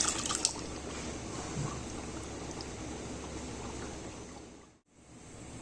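Lentil dal being poured into a pot of well-browned mutton, a soft continuous watery rush and bubbling close by that dips briefly near the end.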